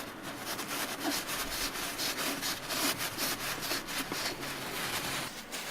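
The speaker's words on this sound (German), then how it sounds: "Filter wieder aufsetzen, ein bisschen runterdrücken und mit der Hand anfangen festzuschrauben." A BMW E46 325ti Compact oil filter is screwed on by hand, giving a steady, close scratchy rubbing and grinding with regular repeated strokes, fairly quiet and continuous, with no talk.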